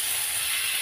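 Water hitting a pan of sizzling meat curry in a short, loud burst of hissing steam that stays steady and close for under a second.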